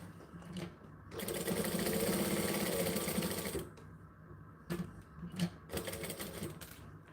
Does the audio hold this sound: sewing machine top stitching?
yes